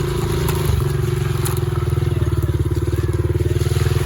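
Honda CRF70 dirt bike engine running on a trail, a close, loud, steady pulsing putter with a slight rise in revs and rattling clatter.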